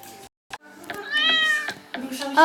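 A cat in the Goat Simulator video game gives a couple of bright, rising meows, fairly loud and close, set among short clicks and game noises.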